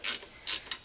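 An 18mm wrench works a flag nut on a 2005-2009 Mustang S197 rear control arm, giving three short ratcheting clicks, the first two longer, close and fairly quiet.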